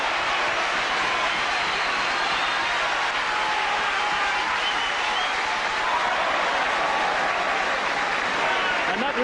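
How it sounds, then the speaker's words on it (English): Rugby crowd at Swansea's home ground applauding and cheering as the Swansea team runs out to face the All Blacks in 1989, a dense, steady roar of clapping and voices filling the whole stretch. "that reception from the crowd leaves them in no doubt that they're the favourites here"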